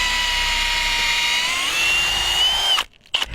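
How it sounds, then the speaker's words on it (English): A power drill bores down through roof plywood into a stud, a loud, steady high-pitched whine held for nearly three seconds before cutting off abruptly, then a brief final burst. "that's where we want to drill down and attach our lag bolts."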